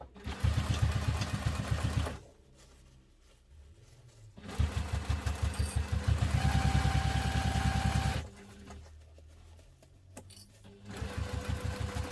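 A sewing machine stitches fabric pieces for a messenger bag in loud, rapid, rhythmic bursts that run for several seconds. Short quieter pauses separate the runs.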